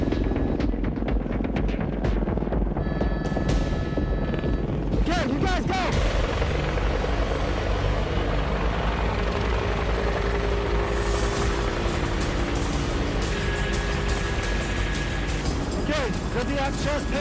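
A helicopter's rotor throbs loudly and continuously close by on Everest, with a whining turbine and shifting mechanical tones layered over the rhythmic chop.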